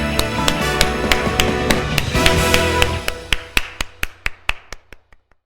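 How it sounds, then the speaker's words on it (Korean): A Sunday-school congregation in a church claps together in a steady rhythm over fading music, then the sharp claps ring out alone, slowing and growing quieter until they stop. "하나님께 영광의 박수 올려드리겠습니다."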